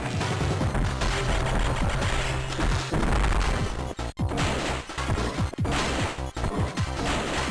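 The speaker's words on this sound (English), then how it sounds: "Maybe shooting multiple missiles isn't even faster." Missile fire aimed at a boss in Metroid Fusion is a dense run of game blasts and impacts. Repeated booms and crashes stack over busy game music, loud and continuous, with a few sharp gaps.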